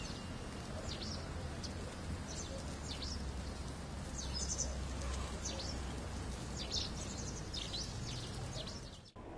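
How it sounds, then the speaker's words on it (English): Pied wagtails give repeated high, thin chirping calls in an urban setting, scattered over a dense murmur of background noise, moderately distant and faint. "it's actually a very special little bird, the pied wagtail"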